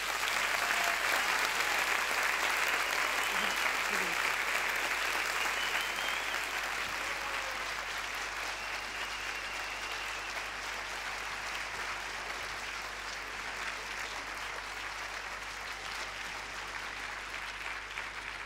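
Sustained audience applause for thesis contest finalists at a regional final in Alsace, a dense steady clapping from a large seated crowd that holds strong throughout and eases only slightly toward the end.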